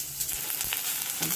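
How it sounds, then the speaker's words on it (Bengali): Onion, tomato and ginger-cumin paste sizzling in oil in a pan, a brief, moderately loud close crackle with faint stirring scrapes. "এখন ভালো করে কষিয়ে নেবো।"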